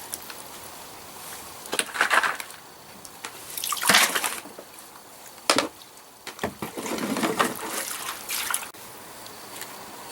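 Dyed wood mulch being rinsed with water, heard as bursts of splashing and pouring water with drips and trickles between them, close by and in uneven surges, with no one talking.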